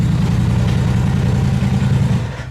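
An upgraded Polaris RZR Turbo side-by-side runs with a loud, steady engine drone close by, holding a constant throb before easing off at the very end.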